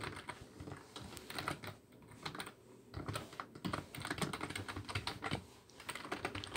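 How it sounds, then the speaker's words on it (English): Quiet rapid keystrokes on a computer keyboard, uneven bursts of clicks and taps continuing steadily for several seconds with brief pauses, no voices. "So now I'm typing here some details."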